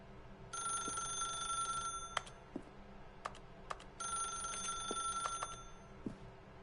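A telephone rings in the video game The Stanley Parable, two bright electronic trilling bursts separated by a pause, with soft clicks between them over faint room tone.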